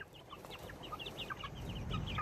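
Chickens in a backyard flock cluck and chirp continuously at close range, a busy overlapping chatter of short calls with a low background rumble.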